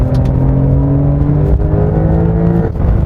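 A 2021 Porsche 911 Turbo S (992) engine hums and rumbles steadily from close behind the driver, a low throaty drone with a slight shift in pitch near the end.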